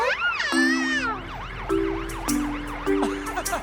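A wailing fire engine siren rises and falls in quick repeated sweeps, loud and near, with overlapping whoops and horn-like tones sounding several times over the steady wail.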